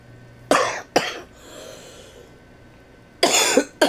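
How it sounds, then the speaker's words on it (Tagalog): Someone with an itchy throat, after eating sweet biscuits, gives sharp, close coughs: two in quick succession, a pause with soft breathing, then a tight cluster of two or three more. "Kasi nga inuubo ko"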